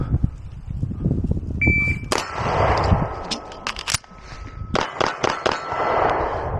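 Beretta 92FS Compact pistol fired in single action on a range, several sharp, loud gunshots spaced irregularly with ringing metallic echoes between them.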